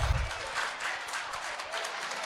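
Audience applause at a preschool annual day function, a steady wash of many hands clapping across the hall for the whole stretch, moderately loud with no talk over it.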